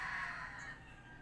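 Chickens squawk and cluck faintly in the near distance during cooking, a raspy, steady calling over low background hum.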